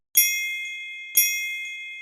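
Two clear bell dings, about a second apart, each ringing out and fading slowly, like a doorbell chime in a quiet room.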